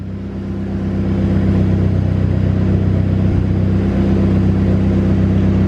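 A Nissan 300ZX Z32 engine on a dyno climbs to a loud, steady, droning rev after a brief ramp-up, holding a thick, constant roar close by throughout.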